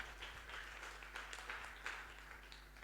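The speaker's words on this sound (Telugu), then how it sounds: "చప్పట్లు కొట్టి దేవుని మహిమపరుద్దాం." A church congregation claps together in worship, a quiet, continuous patter of many hands with soft irregular peaks, heard at a distance without speech.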